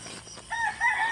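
A rooster crows on a farm in early morning, a drawn-out call rising from quiet rural background, fairly close and clear with no talking over it.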